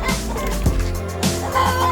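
Rhode Island Red and hybrid laying hens cluck and squawk close by in a few separate calls, with one brief loud burst near the middle and steady low farmyard background noise between the calls.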